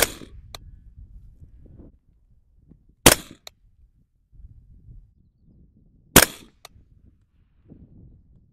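Three supersonic 300 Blackout rifle shots fired at a target from 50 yards, each a sharp, loud crack with a quick echo, spaced about three seconds apart, with quiet rustling in the gaps.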